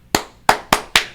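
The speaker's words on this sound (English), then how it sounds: "Slow clap." Four slow, deliberate hand claps, sharp and close, evenly spaced about a third of a second apart in an otherwise quiet room.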